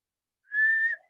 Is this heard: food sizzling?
no